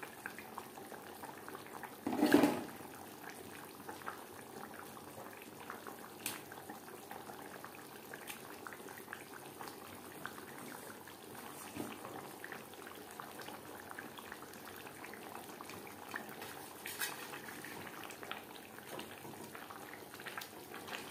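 A Bengali winter fish curry with rohu fish and winter vegetables simmers in its gravy in a pot, a faint, soft bubbling and gentle liquid burble, with a brief louder knock or clatter near the start.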